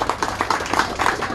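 An audience on a humanities field trip at Gunsan inner harbor railway claps briefly, a quick cluster of close hand claps in uneven rhythm.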